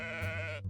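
A cartoon sheep lets out one long, wavering bleat, loud and close, in an animated OverSimplified history video about the Pig War, with no speech over it.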